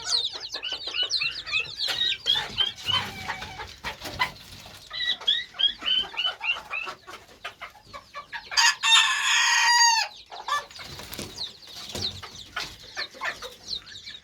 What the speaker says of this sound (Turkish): Kümesimi görüyorsunuz. Çok aktif ve hareketli bir kümes.